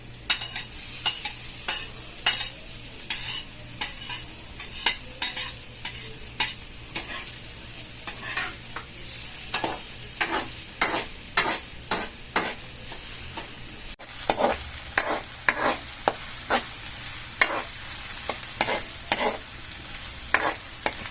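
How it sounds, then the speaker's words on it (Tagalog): Ginger and garlic are sautéed in a pan for higado, with a steady sizzle under repeated scraping stir strokes from a utensil at a regular rhythm, close and moderately loud, with no talking. "Nagigisa pa lang po tayo, mabango na po ang amoy."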